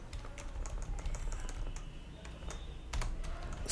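Close, quiet keystrokes on a computer keyboard as an SQL insert query is typed, a steady run of light taps with no one speaking.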